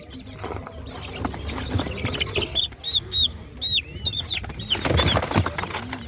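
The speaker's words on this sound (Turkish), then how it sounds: "Bu civcivler kaç haftalık?" Chicks and chickens at an outdoor poultry market in Çubuk, Ankara, give bursts of high peeping and clucking, close and fairly loud, over a busy crowd background.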